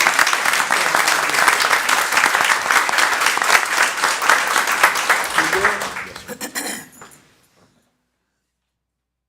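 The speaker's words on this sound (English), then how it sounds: "She's going to be mad that I asked her to stand up and us clap for her" A board of education meeting audience claps for a staff member asked to stand, loud sustained applause filling the room for several seconds before thinning out and stopping abruptly into silence.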